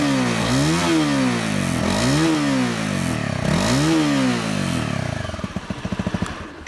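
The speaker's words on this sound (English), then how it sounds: "the exhaust is obviously the standard Honda exhaust. And it sounds a lot better than the 250L's stock one did" Honda CRF 250 Rally motorcycle on its standard stock exhaust, revved in three rising-and-falling blips, loud and close, then settling into a popping, uneven idle at the end.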